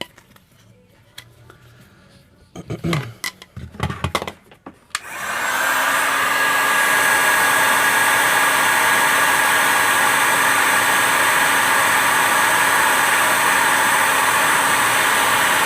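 An Einhell TH-HA 2000/1 heat gun switches on after a few brief handling knocks and then blows hot air in a loud, steady roar with a constant whine, running alone without a break.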